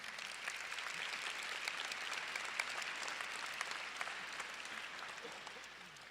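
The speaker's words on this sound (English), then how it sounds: "can we please get a round of applause for our families and friends that are with us this morning" An audience claps steadily for graduates' families and friends at a dental hygiene class ceremony, a dense, even wash of applause from a large crowd that holds throughout and tapers slightly at the end.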